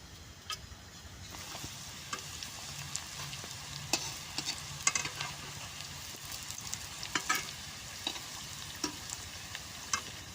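Taro flower fritters frying in oil in a wok, a steady soft sizzle with scattered crackles and pops throughout, close and moderately quiet, with no talking.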